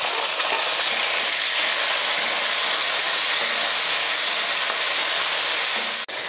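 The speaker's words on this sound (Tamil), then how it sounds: "தக்காளி பார்த்திங்கன்னா நல்லா வதக்கியாச்சு." Tomatoes sauté with onions and curry leaves in a pan, a loud, steady frying hiss that holds evenly throughout, with a brief clink near the end and no voices.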